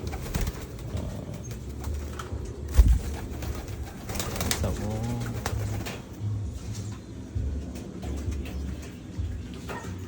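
Homing pigeons in free flight give soft cooing and bursts of wing flapping outdoors, fairly close, over a steady background hum with one sharp loud thump early on.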